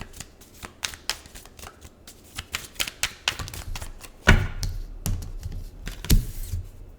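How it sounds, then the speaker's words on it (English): Tarot cards shuffled and pulled for a reading, a run of quick crisp riffling snaps and soft slaps, close and clear, with a louder burst of card handling near the end and no talking. "let's pull the cards"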